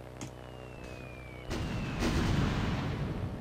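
Cluster bombs striking a British tank in Aircraft Evolution, heard as a couple of heavy booming impacts that swell into a dense, rumbling roar after a faint whistling drop.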